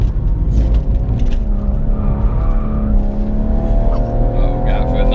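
A BMW M135i sliding sideways on a track at Bruntingthorpe, its engine droning loudly at high revs with tyre noise underneath, heard from inside the car with some talk.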